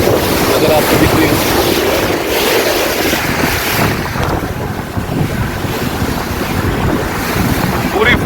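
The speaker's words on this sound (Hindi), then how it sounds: "मैं दिखाता हूँ समुद्र की लहरें।" Sea waves churn and splash against a fast-moving speedboat off Pattaya, with a loud continuous rush of water and heavy wind buffeting the microphone, engine and spray blending into a steady roar.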